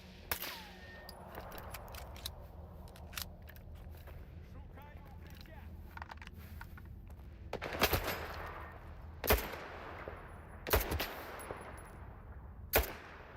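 Gunfire in S.T.A.L.K.E.R. 2 on master difficulty: several sharp, loud shots at about 8, 9.5, 11 and 13 seconds, some in quick bursts, over low ambient rumble and quieter earlier sounds, with a player talking.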